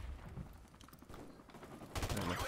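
Gunfire in Call of Duty Modern Warfare multiplayer: a quiet spread of distant shots and rattling fire, then louder, closer bursts of rapid automatic fire in the last half second, with no talk.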